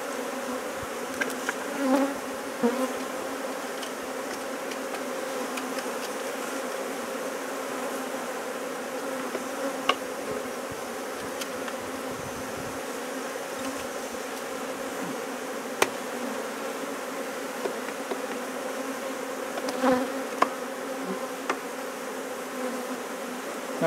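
Honey bees drone continuously at an open beehive with a dense, even hum and occasional brief clicks and knocks from hive handling.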